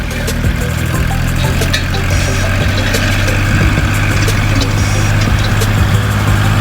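Kubota L3218 DT 32-horsepower tractor engine idles with a steady, loud, low diesel drone that holds evenly throughout, with no voices over it.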